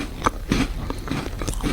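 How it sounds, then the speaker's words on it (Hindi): Jaws chewing hot, fresh-fried jalebis, with a few crunchy bites in an irregular rhythm, close and fairly clear, and no talking. "अब मैं अपने जबड़ों को चबाते हुए सुनना"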